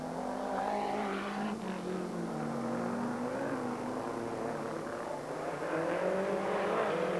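Rally cars circulating at the Autódromo do Estoril during the 1988 Rally de Portugal, engines droning steadily and fairly loud with a rising and falling pitch as cars pass, no talk.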